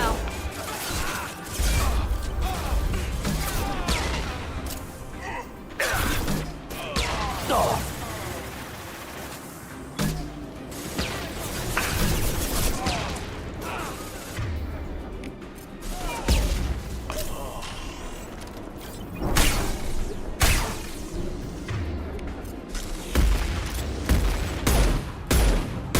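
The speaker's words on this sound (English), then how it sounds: "Firing now." Weapons firing during combat in the video game Mass Effect 2, bursts of shots and crashing impacts scattered irregularly through a long, busy stretch of battle noise, with people talking over it.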